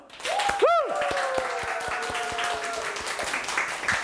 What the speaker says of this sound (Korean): 오늘 참석해 주신 패널 여러분을 한 분 한 분 박수로 맞이를 해주시면 되겠습니다.